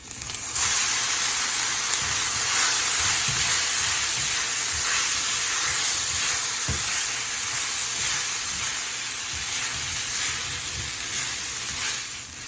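Poha (flattened rice) with green chilies and turmeric steams and sizzles in a covered pan on an electric stove, giving a steady, close, broadband hiss with faint crackles and no talking.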